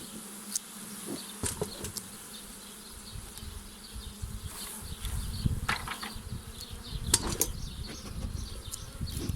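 Honeybees buzz steadily in a dense swarm around a hive being worked, with occasional knocks and light clattering nearby.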